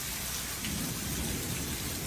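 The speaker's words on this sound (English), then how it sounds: "Oh, these the Florida storms" Florida thunderstorm with heavy, steady rain pouring down and a low rumble of thunder underneath, loud and continuous throughout.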